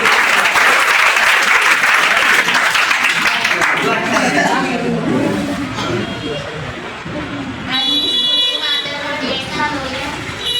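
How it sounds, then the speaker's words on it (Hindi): A class audience at a farewell ceremony gives loud, sustained applause, with dense clapping and cheering voices filling the room for several seconds. "तो जोरदार ताली हो जाए"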